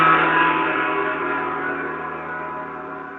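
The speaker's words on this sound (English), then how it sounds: "listen, this is the sound of gong actually" A gong sound played back in MATLAB rings out as a single struck tone that slowly fades over about three seconds, heard alone.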